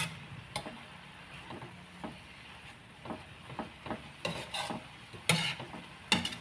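Vegetables for chopsuey with labong (bamboo shoots) stirred in a pan, giving soft scraping and clacking strokes in an uneven rhythm over a faint sizzle, with a few sharper utensil knocks near the end.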